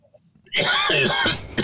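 One close throat-clearing cough bursts out after near silence and drags on roughly a second.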